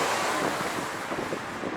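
Strong wind buffets the microphone in a constant, rushing roar, loud and close, with no voices.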